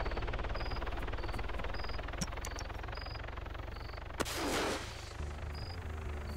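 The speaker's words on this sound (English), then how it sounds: "Did you just shoot a flare?" A flare fired during an Arma 3 military mission, heard as a single sharp pop followed by a brief rushing hiss over a steady engine-like drone with faint periodic beeps, no voices present.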